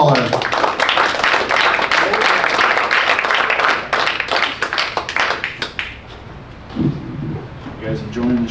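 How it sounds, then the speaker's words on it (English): Audience applause for a comedian at a stand-up comedy show, dense clapping for about six seconds before fading out, then a host's voice begins speaking. "Nice round of applause for Lowballer"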